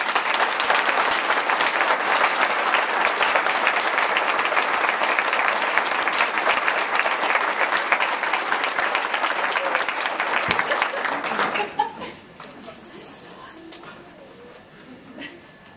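An audience at a Globe University graduation ceremony in Madison applauds the graduation speakers with loud, dense, sustained clapping that swells for about twelve seconds, then drops off sharply to scattered faint claps and room murmur.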